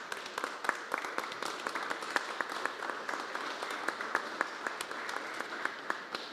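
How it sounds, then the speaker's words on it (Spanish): An audience at a Teachers' Day ceremony gives steady applause for award-winning teachers, with dense claps and a few sharper individual claps standing out, moderately quiet and fairly distant. "El reconocimiento de nuestro aplauso para todos los maestros galardonados."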